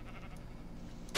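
Short sheep bleat in a video game, quiet and brief near the end after a faint ambient stretch, with no talk over it.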